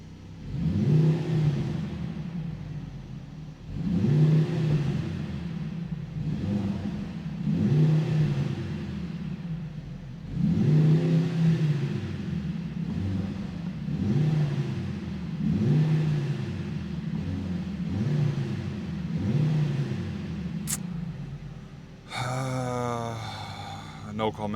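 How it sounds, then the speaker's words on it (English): A 2024 Mercedes GLC63 AMG four-cylinder engine revs repeatedly nearby, each rise in pitch falling back to idle in a steady rhythm of about eight blips, a person speaking faintly underneath. "Let me just rev it a few times for you."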